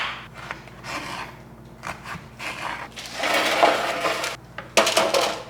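Knife cutting carrots into sticks on a board, irregular close scraping chops and taps, growing louder and denser toward the end.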